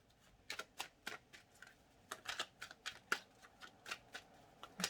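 Tarot cards are shuffled by hand in quick, soft riffling bursts, close and fairly quiet, with short pauses between runs.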